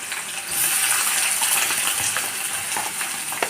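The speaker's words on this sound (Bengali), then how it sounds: "সব একটু গরম হয়ে গেলে পেঁয়াজগুলো আমি তেলের উপর ফেলে দিচ্ছি" Onions drop into hot oil already seasoned with panch phoron and whole garam masala for a mutton curry, setting off a loud, bright, steady sizzle after a brief quieter moment, with a few small pops.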